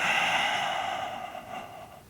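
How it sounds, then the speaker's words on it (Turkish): A long, steady exhale during a yoga breathing exercise, close and breathy, gradually fading over about two seconds with no talking. "Uzun nefes al. Ve rahatça ver."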